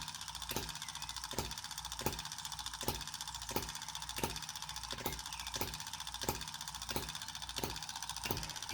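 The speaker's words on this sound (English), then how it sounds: "The engine is a 4-stroke cycle, but only fires when the engine slows to release the catch" A miniature hit-and-miss four-stroke petrol engine runs alone, putting out a steady, even train of sharp firing knocks about once every second or so over a low mechanical hum.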